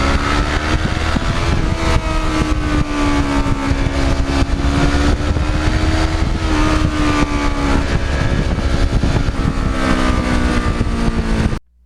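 A Kawasaki Ninja motorcycle engine drones steadily at cruising speed, a continuous buzzing tone with slight pitch shifts under wind rush, heard close up while a rider talks over it before it cuts off abruptly.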